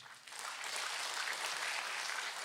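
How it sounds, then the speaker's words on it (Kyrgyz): Audience at a Kyrgyz stand-up comedy show bursts into applause, a dense wash of clapping that swells quickly after a brief quiet start and holds steady, moderately distant and without any voices. "кол чабуулар"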